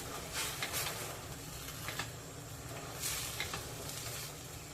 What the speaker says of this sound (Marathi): हे सर्व साहित्य आता मिक्स करून घेऊया